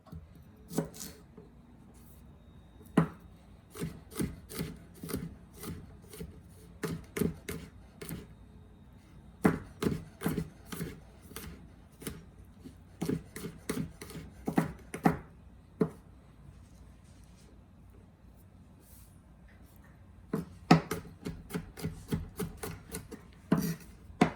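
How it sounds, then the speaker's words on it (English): A knife mincing food on a cutting board while lasagna is made, quick close bursts of rhythmic chopping taps, pausing now and then, fairly soft, with no talk. "We'll mince that."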